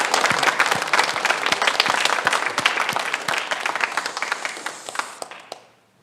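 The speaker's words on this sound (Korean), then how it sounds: "격려와 축복의 박수." Church congregation clapping in warm applause at a Sunday service, dense and steady at first, then thinning into scattered claps that fade out near the end.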